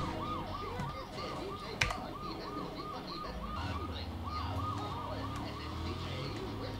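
Police car sirens wail in USA Raser, a looping rise-and-fall whoop that repeats steadily and fairly close, with engine rumble underneath and a brief sharp knock partway through.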